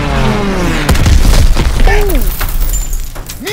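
Stuka dive bombers attacking in Call of Duty: WW2, with a siren-like whine and a heavy boom and crash of explosions close by, then shattering debris and gunfire.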